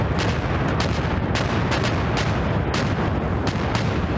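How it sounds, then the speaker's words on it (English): Dense, continuous gunfire and artillery from the Eastern Front war game OstFront, rapid overlapping shots and booms filling the whole stretch at steady loudness. "Stop shooting."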